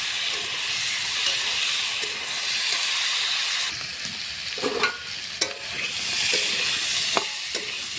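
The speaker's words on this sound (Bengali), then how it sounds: "আলুটা ভালো করে ভাজতে ভাজতে আলুটার চোখাটা আলাদা হয়ে যাবে আলুর থেকে" Potatoes fry in a pan of oil, giving a steady broadband sizzle and hiss with occasional sharper crackles and stirring clicks, close and alone without any talk.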